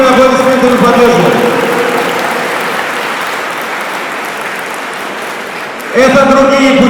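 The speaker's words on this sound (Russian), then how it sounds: "Давайте бурными аплодисментами поддержим." A large audience applauds at a Lak community gathering, with a loud, dense wash of clapping that tapers slightly before swelling again near the end. Voices and background tones sit under the clapping.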